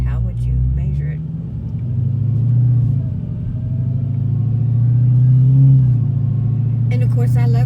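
White Lightninn, a car, cruising through a city in the evening with a low steady engine rumble that swells and eases gently, heard from inside the cabin, with someone talking briefly over it at the start and end.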